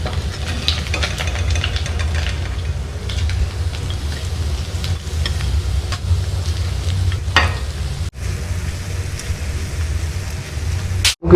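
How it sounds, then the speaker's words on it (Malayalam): River fish fry in hot oil with a loud, constant sizzle, broken by a few sharp clatters near the end. "നമ്മുടെ മീൻ നന്നായിട്ട് ഫ്രൈ ആയി കേട്ടോ."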